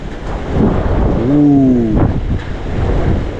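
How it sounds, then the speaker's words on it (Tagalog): Strong typhoon wind roars in heavy gusts, buffeting the microphone with deep rumbling, and a brief whistling tone rises and falls in the middle. "parang iba yung ihip ng hangin talaga"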